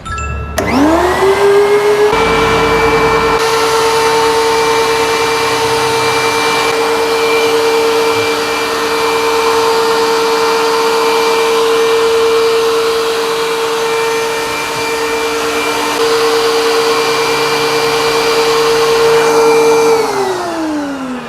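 A DeWalt DW735 13-inch, 1,800-watt electric wood thickness planer spins up and runs steadily with a loud droning whine for about twenty seconds, then begins to wind down, no voices.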